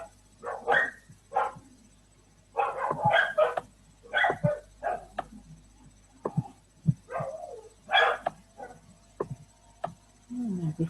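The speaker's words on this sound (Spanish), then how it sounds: "Una trifulca de perros allá afuera" Dogs scuffling and barking outdoors in a fight, with repeated yips, growls and whimpers coming in irregular bursts over steady background hum; the barks are moderately loud and fairly close.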